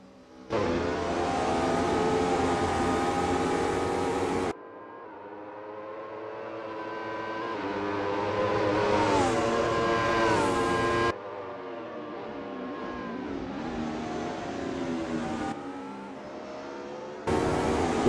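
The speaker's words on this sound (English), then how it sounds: "The roaring engines are echoing Wayne Pearson's battle cry." A Wolf GB08 race car engine roars around the Barcelona circuit in Assetto Corsa. The loud note climbs steadily through the revs, then cuts sharply at gear changes before rising again.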